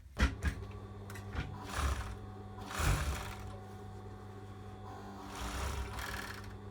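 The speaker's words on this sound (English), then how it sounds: "So here you can see I've overlocked it" An overlocker sewing machine stitches fabric for a face mask, running in three short mechanical bursts of rapid whirring with brief pauses between, close and moderately loud with no talking.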